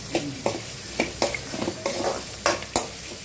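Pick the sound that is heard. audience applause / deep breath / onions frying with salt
onions frying with salt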